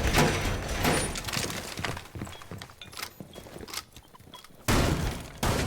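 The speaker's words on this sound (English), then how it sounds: "You can hear the Nomad's AK-74 rattle off in the distance." In the Rainbow Six Siege video game, an AK-74 rattles off in distant bursts of rapid gunfire, mixed with thuds, footsteps and other busy in-game noise throughout.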